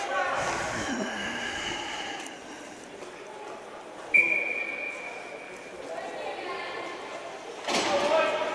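A sharp referee's whistle blast at a girls' U-16 ice hockey game between Boston and Chicago rings out briefly near the middle, clear above steady rink crowd noise and a commentator talking.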